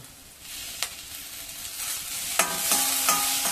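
Tomatoes hitting onions that have been fried until reddish, with a steady sizzle, a light clack near the start and louder stirring and scraping toward the end; no one speaks.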